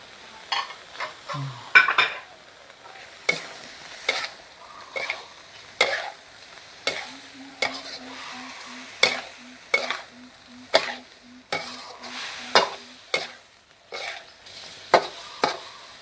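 Squid stir-fried in a pan with red curry paste and pickled bamboo shoots: repeated scraping and clacking of a spatula against the pan at an uneven rhythm over a soft sizzle, with a brief steady tone in the middle.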